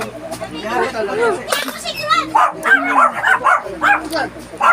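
Several pet dogs bark and yip excitedly while chasing a neighbor who came asking for food, with voices talking over the barking throughout.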